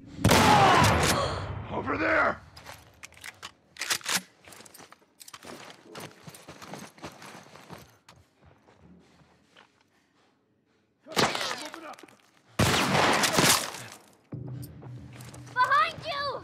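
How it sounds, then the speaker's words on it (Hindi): Bursts of gunfire in The Last of Us Part 1 during a fight with stalker zombies come in sharp clusters between quieter stretches of footsteps and movement, with a voice briefly speaking Hindi. "अब गोली चलेगी।"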